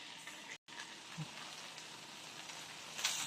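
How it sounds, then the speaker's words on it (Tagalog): Sliced tofu frying for sisig made from leftover lechon, a steady close sizzle filling the pan with a brief dropout and a slight swell near the end. "ilalagay natin yung tokwang hiniwa natin"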